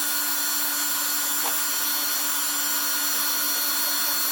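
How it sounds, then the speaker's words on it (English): A deburring tool grinds rust off a Renault rear brake hub with a constant, loud mechanical whir and a steady whine and no pauses. "And then again with the deburring tool, let's get"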